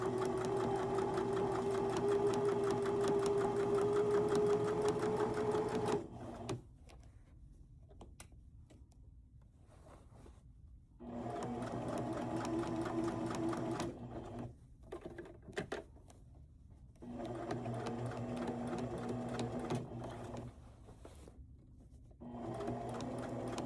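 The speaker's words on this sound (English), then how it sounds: "Now you don't want to sew directly on that original hem." A sewing machine stitches along a pant hem in close, steady whirring runs that stop and restart several times, leaving short quiet gaps between bursts.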